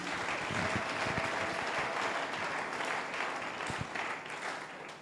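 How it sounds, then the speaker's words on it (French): A church congregation bursts into sustained applause during a sermon, dense clapping from many hands filling the space evenly for the whole stretch, with a few sharper claps and no clear talk over it. "Acclamons le Seigneur Jésus"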